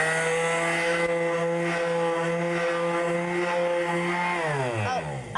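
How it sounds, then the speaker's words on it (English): A palm sander runs on painted wood, giving a steady high whine with strong harmonic tones that holds for several seconds and then winds down at the end. "So I'm going to now take my palm sander and just smooth it out a little bit"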